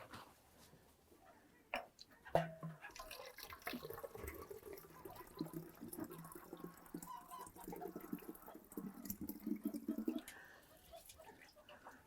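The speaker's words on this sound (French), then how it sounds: "Faut remplir mes cruches" Water runs steadily into jugs indoors, a continuous rushing stream that grows fuller over several seconds, with chickens clucking faintly in the background.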